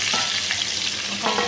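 Pointed gourd pieces frying in a pan, a dense close sizzle with light stirring scrapes, loud and continuous with no talking.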